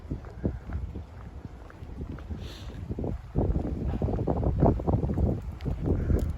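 Steady wind buffets the microphone in low gusts on a university campus in Japan, rumbling continuously throughout with no voices.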